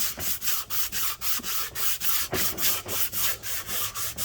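Rhythmic back-and-forth sanding strokes rasp against the hard metal surface of a 2018 Ram 5.7 Hemi cylinder head, about three per second, steady and close, with no talking.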